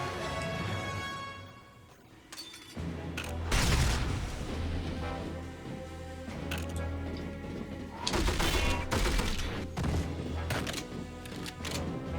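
Shotgun blasts boom in 007: From Russia With Love, heavy bursts clustered in two main volleys over a humming game soundtrack.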